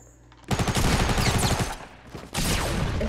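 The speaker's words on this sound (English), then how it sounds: "Pump shotgun to the head." Shotgun fire in a video game sounds as loud, close blasts, a dense cluster of reports followed by a brief lull and then another heavy burst.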